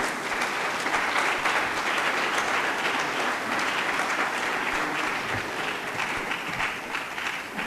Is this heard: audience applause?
yes